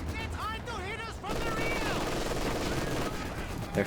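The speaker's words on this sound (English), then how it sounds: "They're shooting each other." Machine gun fire rattles in Company of Heroes 2, a dense, sustained battle din after a short pause, with warbling game sounds and a loud pop near the end.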